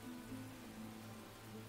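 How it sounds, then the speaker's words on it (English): Rain in the survival game Enshrouded falls as a soft, steady hiss, quiet and even, with a faint low hum underneath and no talking. "Game's really peaceful when it rains."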